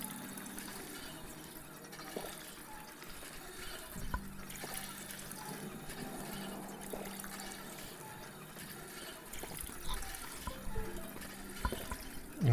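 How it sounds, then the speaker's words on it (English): A water pump in the Fallout video game pumps water, producing a continuous low gurgling, flowing wash with faint repeating mechanical tones, steady and moderately quiet throughout. "Am I still pumping water?"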